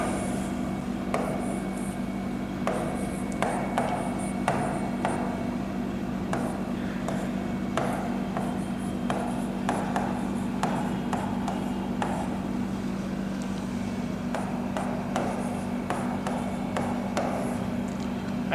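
Pen or chalk rubbing steadily across a surface while a maths solution is written out, a continuous soft scratching with irregular taps and strokes over a low steady hum, no talking.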